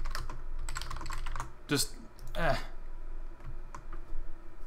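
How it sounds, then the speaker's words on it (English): Rapid clicking of computer keyboard typing during a Minecraft gaming session, loud and close to the microphone, with a brief spoken word near the start and clattering bursts throughout. "yeah, I apologize for my typing right there."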